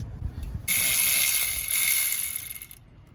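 A hand ratchet turns the last bolt on a Dodge Ram air-conditioning compressor, a close, bright buzzing of pawl clicks lasting about two seconds before stopping.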